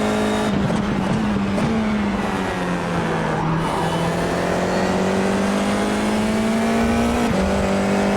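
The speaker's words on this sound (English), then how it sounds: "Didn't like the sound of my tyres gave me just then, it sounded very close to a sideways." An F4 race car at Hockenheim in the iRacing sim holds a steady engine drone through a corner, with a sustained tyre squeal and slight pitch dips as the car slides, loud and continuous with no talking.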